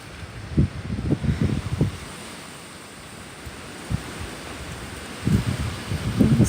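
Wind blowing through backyard trees on a windy day, gusty low rumbling buffets against the microphone with leafy rustle, rising and falling in several bursts.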